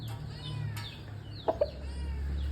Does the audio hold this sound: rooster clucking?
yes